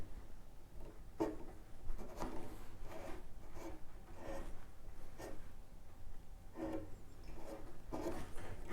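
A pad rubs back and forth across a guitar's wooden body during French polishing, a close, soft rhythmic swishing with repeated strokes about every second, alone without talk.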